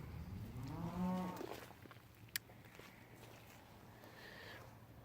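Heifers moo near the start of the clip before feeding. There is one long, fairly close moo, followed by a sharp click, a faint rustle of movement and a fainter bovine call near the end, all against a quiet farmyard background.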